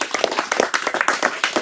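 A crowd at an Indonesian religious gathering gives a brief burst of lively, rhythmic hand-clapping. The crisp, dense claps carry on without pause and sound close and fairly loud.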